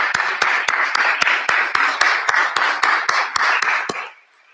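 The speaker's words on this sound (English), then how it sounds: "a round of applause for Colleen Melody" Audience applause at a Washington state Supreme Court appointment announcement, a steady burst of many hands clapping close and loud for about four seconds before cutting off.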